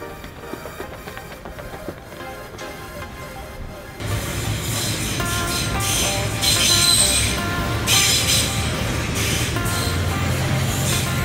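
At a Brixton station platform, a train arrives with a rising rumble after a quieter stretch, then brakes and wheels squeal sharply in repeated bursts over a heavy rolling roar, close and loud.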